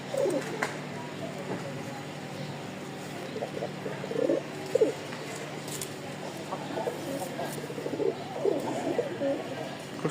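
Pigeons in a Dhaka market loft coo in repeated soft, throaty bursts, several calls spread across the stretch amid other birds and low background chatter, fairly close.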